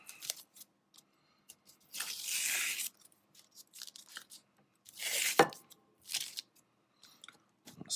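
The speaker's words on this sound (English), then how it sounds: "removing the tape and seeing how it all looks" Masking tape is peeled off paper from a sketchy scribbled portrait, giving two longer ripping strips among small crackly tugs, close and clear in a quiet room.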